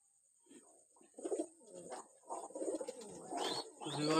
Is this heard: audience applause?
no